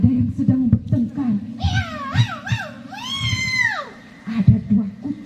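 A voice imitates two cats fighting, drawing out several rising and falling yowls and a long wailing cry, surrounded by brief speech before and after.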